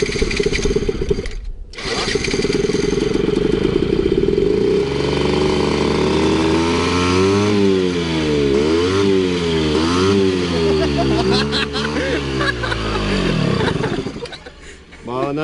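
A small petrol scooter with a carburettor fault starts after a cough and a pause, then jumps straight to full throttle, its engine screaming loud and close with rising and falling revs for most of the stretch.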